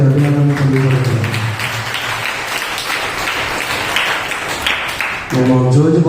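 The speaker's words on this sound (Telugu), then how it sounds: "ఒకసారి గట్టిగా చప్పట్లు కొట్టి అభినందనలు తెలియజేస్తున్నాం" A church congregation claps loudly in a dense burst of applause that runs through the middle, with voices speaking before and after it.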